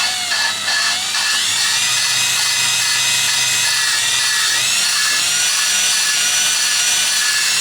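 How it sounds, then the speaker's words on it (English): Engine valves from a 2000 Yukon are ground with a drill press and grinding compound, giving a loud, steady, high-pitched whine and scraping grind that continues without pause, with no speech. "this is basically how I grind the valves"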